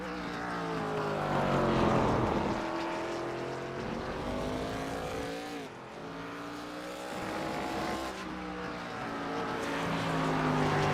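Race cars running around a track, their engine whines rising and falling in pitch as they pass, loud and continuous with brief dips between cars.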